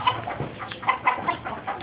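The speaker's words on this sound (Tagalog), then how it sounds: "Ayan mga manok." Backyard chickens clucking in a short, soft run of repeated calls, close by and without speech.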